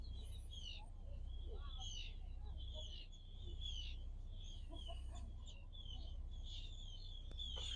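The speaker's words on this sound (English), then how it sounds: "But the birds are here singing." Wild birds singing outdoors on a lava field in Iceland, a series of quick, high chirps and trills repeating over a low, constant outdoor rumble, soft and somewhat distant, with no talking.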